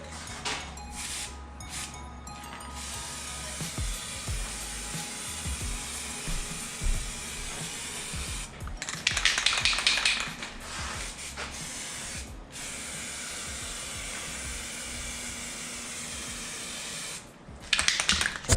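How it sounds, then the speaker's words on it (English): Steady spray hiss of sprayable vinyl wrap coating BMW 335xi aluminum window trim runs throughout, with short pauses and brighter, louder bursts midway and near the end, close to the microphone. "We're just gonna make sure that it's spraying nice and clean"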